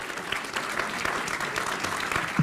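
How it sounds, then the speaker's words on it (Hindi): Audience at a televised political debate show applauds steadily to welcome two guests, a dense, even clapping that fills the whole stretch without talk over it. "तालियों के साथ दोनों का बहुत बहुत अभिनंदन।"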